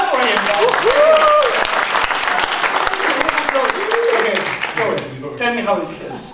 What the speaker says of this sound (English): Yeah, clap for him.